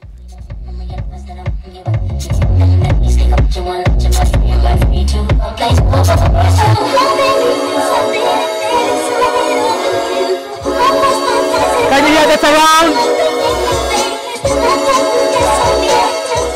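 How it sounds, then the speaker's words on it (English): Loud music from a 16-speaker Harman Kardon system in a Mercedes-Benz GLE 63 AMG S Coupe fills the cabin with deep pounding bass and bright layered instruments, full and continuous throughout. "It has a 16 speaker Harman Kardon sound that sounds like this."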